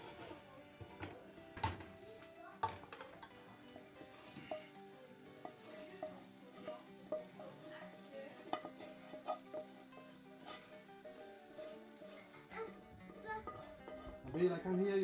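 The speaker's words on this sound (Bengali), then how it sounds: "এখানে আমরা মাংস দিয়ে দিব।" Beef fries with spices and rice for a Sylheti beef akhni. The quiet sizzle is broken by irregular scrapes and clicks of stirring in the pan, with faint voices in the background.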